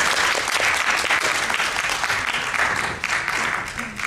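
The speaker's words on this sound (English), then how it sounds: "A round of applause, please." An audience at a post-screening discussion applauds steadily, a dense wash of clapping from many hands that holds strong throughout with a faint murmur beneath.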